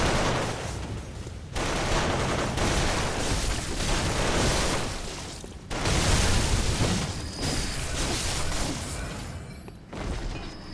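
Gun traps in Bloodborne, set off by a pressure plate, fire in dense, loud bursts of rapid shots with booming impacts and brief pauses between volleys, close and continuous with no talking.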